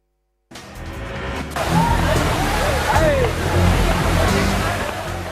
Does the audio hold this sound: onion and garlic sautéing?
no